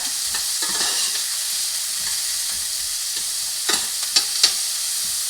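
Vegetables cooking in a small pan over lowered heat, a steady soft hiss of frying with a few light taps of a utensil near the end, close and fairly even.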